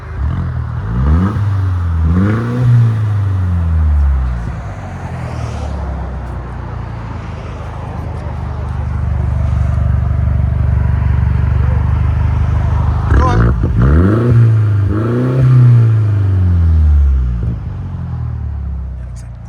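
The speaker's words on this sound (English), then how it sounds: "That's a good sounding Mercedes." A 2022 Mercedes GLC 300 with a 2.0L turbo engine and straight pipes revs loudly several times, with deep throaty blips and a sustained high-rev drone in between, close up.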